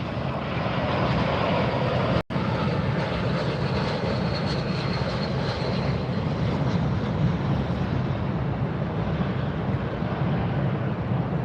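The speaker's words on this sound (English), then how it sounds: "It is a DC-3 cargo. Florida Air Cargo is the airline." A Florida Air Cargo DC-3 cargo plane roars down the runway on takeoff, a loud sustained propeller-engine drone with one sharp momentary dropout early on and no voices.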